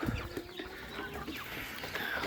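Chickens cluck in short, scattered bursts at moderate distance at feeding time, with a steady outdoor background hum and no one talking.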